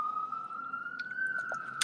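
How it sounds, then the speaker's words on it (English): A New York emergency vehicle siren wails steadily in the background, a sustained rising tone holding across the whole stretch at moderate distance, with faint scattered city clatter and no talking. "I'm so sorry for like the New York siren sounds in the background."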